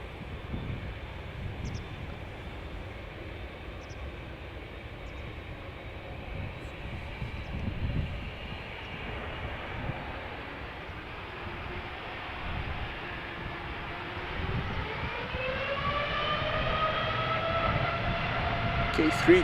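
An American Airlines Boeing 787-8 departs Amsterdam Schiphol, a steady distant jet rumble with engine whine rising near the end as it spools up and draws closer, with voices talking quietly underneath.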